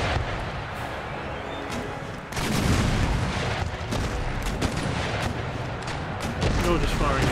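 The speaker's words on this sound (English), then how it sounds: "You're just firing your regular broadside" Ship cannons firing broadside volleys in Empire Total War, a dense rolling barrage of booms and gunfire that swells louder partway through and continues unbroken, with a voice talking over it.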